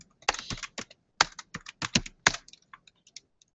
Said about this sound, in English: If I could type gblame right